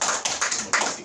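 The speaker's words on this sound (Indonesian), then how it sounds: "Wah, tepuk tangan dulu." Hands clapping at a water utility company gathering in Pekanbaru, a short burst of about five sharp, evenly spaced claps, close and clear.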